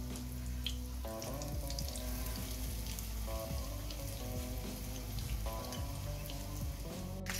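Pizza rolls fry in hot oil with a steady, close sizzle and crackle, punctuated by occasional soft clinks of a utensil as they are turned, with no voices.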